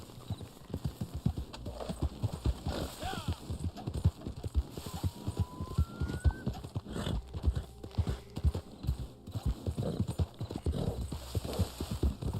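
Horse hooves clip-clop in a steady, rapid rhythm through Red Dead Online gameplay, with a brief whinny, close and fairly loud throughout the stretch.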